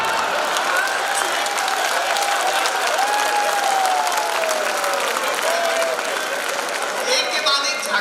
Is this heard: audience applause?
yes